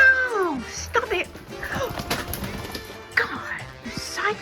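An angry pet parrot squawks and screeches in sharp, rising and falling bursts indoors, close by, with a person talking in between.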